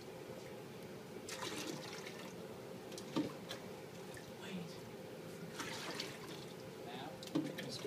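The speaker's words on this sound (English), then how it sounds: "We're pouring at equal rates." Water poured from two containers into equilibrium demonstration tanks, soft continuous trickling and splashing, faint and close, with people talking intermittently over it.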